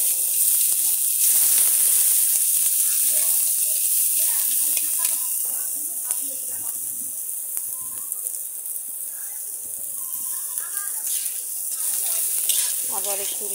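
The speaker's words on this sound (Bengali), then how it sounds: "কড়াইতে তেল দিয়ে একটু সুন্দর করে নেড়ে চেড়ে নিলাম। নেওয়ার পরে এখানে আমরা আদা, রসুন, শুকনো মরিচগুলো দিয়ে দিলাম।" Ginger, garlic and dried chillies fry in oil in a wok with a steady sizzling hiss. Scraping stirs break through at intervals, and a voice talks over the frying.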